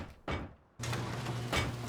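In the survival game Rust, doors are placed into base frames, giving a short mechanical clunk followed by a sustained whoosh and low hum, close and clear with no talking.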